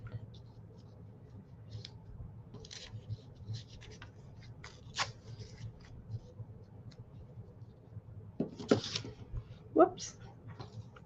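Paper being torn by hand while making a small pocket for a junk journal, with a couple of short, close, ripping bursts near the end after quieter rustling and handling.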